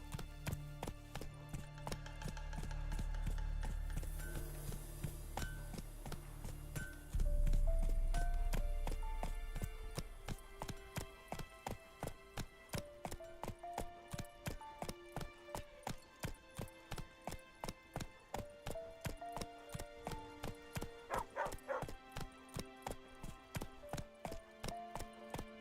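The horse Roach in the video game The Witcher 3, with steady rhythmic hoofbeats clopping under a melodic music score that begins after a low rumbling start, moderately quiet and with no talking.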